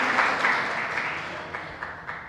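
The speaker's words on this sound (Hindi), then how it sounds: "ताली बजाते जाओ तुम लोग कम से कम।" Steady clapping from an audience at a Jain monk's sermon in Chirgaon, continuous and moderately loud with no voices heard.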